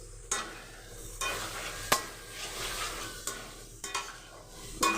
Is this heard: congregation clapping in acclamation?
no